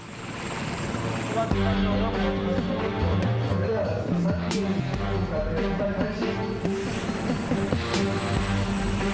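A helicopter's engine and rotor drone steadily and loudly, with a strong whine, as it lifts off beside the Akashi Kaikyo strait near Kobe, Japan, and climbs.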